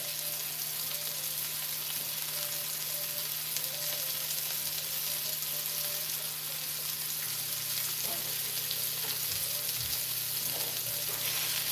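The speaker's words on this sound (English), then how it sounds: "Then I'm gonna deglaze the pan with a little bit of cooking wine. It'll sizzle up real good" Steady sizzle of a pan being deglazed with cooking wine while cooking shepherd's pie, a broad hiss holding at an even level throughout with a low hum beneath and a few faint clinks of stirring.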